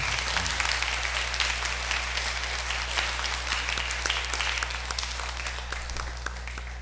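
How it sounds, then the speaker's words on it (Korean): A church congregation at a Sunday service applauds steadily and warmly during a celebration with candles and cake cutting, the claps sustained for several seconds over a low room hum. "우리 다 같이 박수 쳐주시겠어요?"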